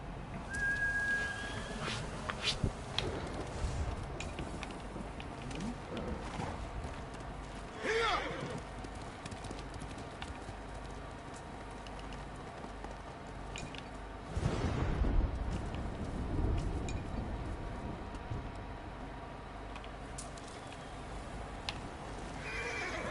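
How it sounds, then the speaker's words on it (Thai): A horse whinnies amid steady ambient noise, with a louder burst of splashing or movement midway and scattered faint sounds, no clear hoof rhythm standing out. "โหน้องม้า"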